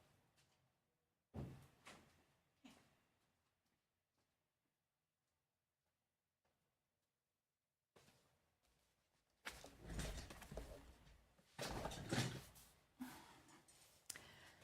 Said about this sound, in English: Let me go shut my door to bedroom.